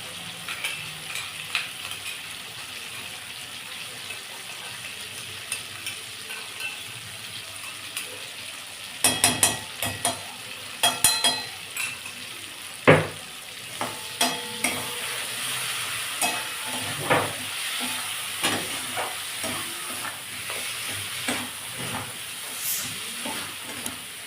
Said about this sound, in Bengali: একদম শুকনো শুকনো করে করতে হবে চিকেনের পেস্টটা রান্না।